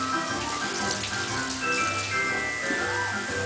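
A child washes at a running tap, water pouring steadily into a sink as a continuous close splashing stream, with faint clatter mixed in and no speech.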